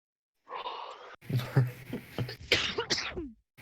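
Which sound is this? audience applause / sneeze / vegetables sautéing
sneeze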